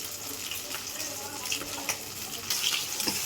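Poppy seed paste sautéed in a pan with spices and sugar makes a soft, even sizzle with occasional spatula scrapes, growing a little louder toward the end.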